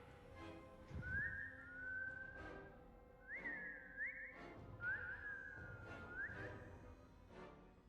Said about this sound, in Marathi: त्याच शिट्टीचा आवाज येतो.